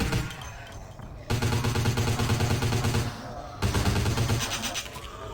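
Rapid bursts of Uzi submachine gun fire in the video game Vampire The Masquerade: Bloodlines, loud and continuous, broken by a short pause partway through before the firing resumes.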